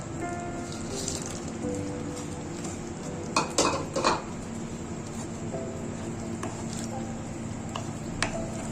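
Fried banana-flower fritters being stirred into mocha ghonto, with soft scraping and clinking of a spoon against a pan, a few louder knocks in the middle, and a steady low kitchen hiss throughout.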